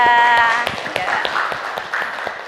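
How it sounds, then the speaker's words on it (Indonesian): A school class gives a short round of applause for a student named Hasbia: a burst of many hands clapping, close and fairly loud, tapering off after a couple of seconds. "kasih aplaus untuk Hasbia"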